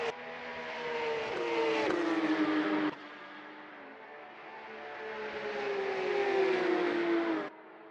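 Porsche Supercup race cars in Assetto Corsa scream at Hockenheimring, engine pitch climbing through gears with abrupt shift drops, a loud close drone that rises, cuts, and surges again toward a hairpin.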